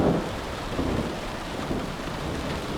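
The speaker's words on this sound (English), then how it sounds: "Another mod that has to do with sound is the sound of rain." Steady heavy rain pours with rolling thunder in Minecraft weather, a dense continuous wash of drops with a low rumble swelling near the start, loud and alone throughout.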